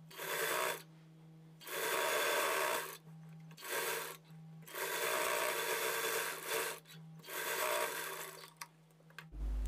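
Sewing machine stitching the front part of a blouse, running in steady bursts of fast, even needle chatter separated by short pauses, close and clear with no talk.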